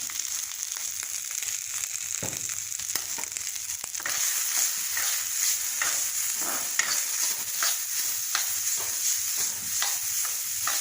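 Potatoes with turmeric and mustard being stirred in a hot pan, a steady sizzle with repeated scraping strokes of the spoon, close and continuous, with no talk.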